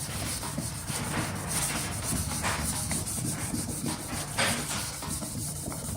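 Medium-grit sandpaper rubs steadily across boat gelcoat in a continuous close-up scratchy hiss, with slight surges in pressure and no pauses.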